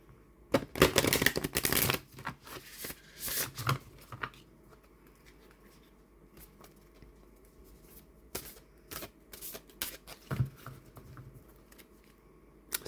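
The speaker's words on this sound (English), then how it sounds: "These are fairly big cards, so you might struggle a bit to shuffle" Large Halloween oracle cards being shuffled by hand, giving bursts of riffling and flapping card noise, loudest near the start and again in short bursts later, with quieter handling in between and no talking.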